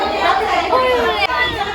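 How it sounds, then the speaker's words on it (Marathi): Noisy crowd of small children filling a busy physiotherapy centre, a dense, steady wash of overlapping young voices and chatter that stays close and continuous throughout. "नुसता लहान पोरांचा आवाज येतोय"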